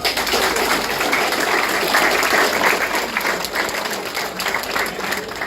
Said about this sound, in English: I'd like to give all of them a round of applause.